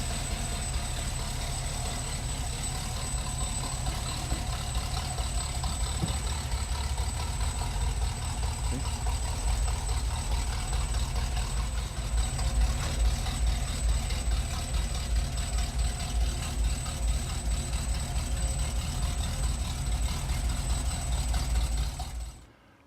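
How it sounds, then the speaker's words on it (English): 1957 Chevrolet Bel-Air engine idling in a garage just after its first startup, a steady, close, low rumbling idle with a slight rhythmic lope, running evenly before cutting off abruptly at the end. "we're doing the first initial startup in the garage. Stand by. Fires right up."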